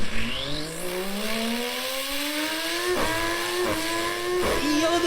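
A voice imitates a race car engine, rising in pitch through repeated gear changes with brief breaks between revs, loud and close.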